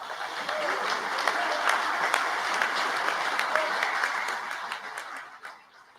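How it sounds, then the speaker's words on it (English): Audience at an 80th commemoration applauding a former ship crew member, dense, steady clapping for about five seconds that tapers off toward the end. "Hand of applause for Ralph"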